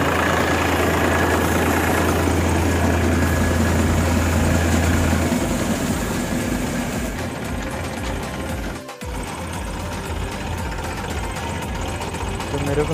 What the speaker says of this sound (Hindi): तो मैं ट्रैक्टर को बंद करने के लिए जा रहा हूँ